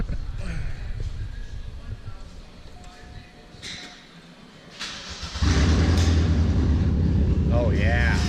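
A car engine cranks and catches, jumping into a loud, rumbling idle after several seconds of quieter background noise and people talking.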